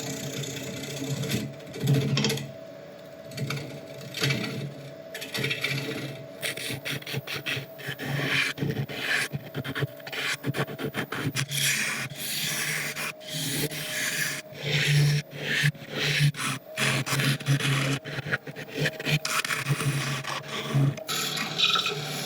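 A wood lathe turns an African mahogany bowl, the tool cutting and rubbing steadily with a scraping, rasping texture and irregular bursts as it works deeper into the wood.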